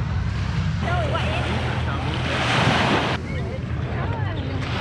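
Ocean surf at a Singapore beach rushes and crashes close by under heavy wind buffeting the microphone, with people talking faintly through it.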